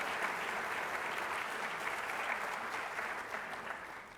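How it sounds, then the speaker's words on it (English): An audience at a 2013 VRA show applauds the Florida Today publishers in a dense, steady wash of clapping that tapers off slightly at the end. "Give them a round of applause."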